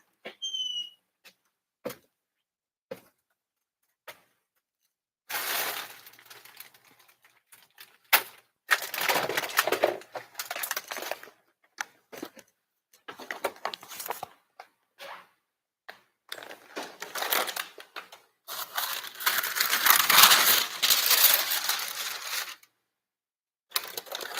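Dried beans poured onto parchment paper as pie weights for a pumpkin pie crust, heard as a run of dry rattling, clattering bursts that come in waves and swell louder toward the end, with short pauses between pours.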